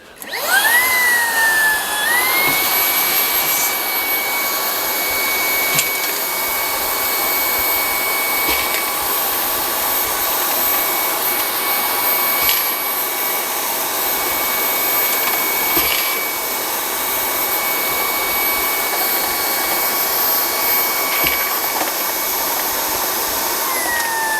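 A Brigii H5 handheld vacuum cleaner, rated 140W and 18KPa, runs with a loud, steady whine. Occasional sharp ticks come through as screws get sucked into it.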